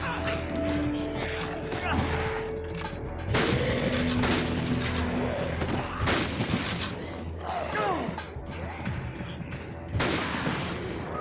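Sniper rifle shots in the zombie game Dead Rising crack out in a handful of sharp, loud bursts spaced several seconds apart, over a layered game soundscape of rumbling effects.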